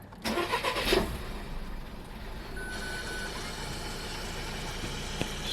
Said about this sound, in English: the car started, one swing, everything is working, and everything is sounding good.